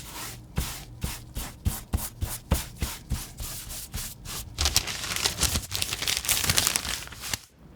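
Tarlatan cloth is wiped in rhythmic, evenly spaced strokes across an inked printing plate at close range, then shifts to faster, denser scrubbing and rubbing before stopping.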